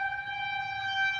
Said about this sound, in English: Oh, there goes the sirens.